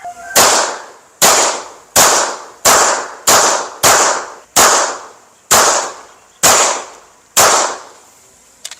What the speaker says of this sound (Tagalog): mag-shoot tayo ng 9mm gamit itong CZ75 SP01. Shoot tayo ng 10 rounds doon sa left glass